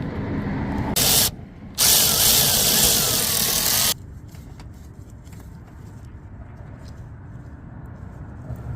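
A power tool whirs loudly in two close bursts while backing out a bolt on a Mercedes S550 headlight, a short burst then a longer run of about two seconds, followed by quiet shop noise and faint mechanical clicks.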